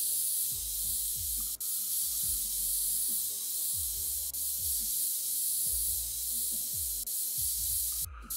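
Steady hiss of air blowing dust out of a dirty PC in PC Building Simulator, a continuous spraying rush with soft rubbing thuds pulsing underneath, close and fairly loud.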